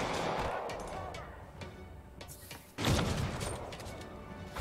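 Sniper gunfire in Spider-Man Remastered gameplay: a series of sharp shots and impacts, with a louder burst near the end over a steady game soundscape, loud and close.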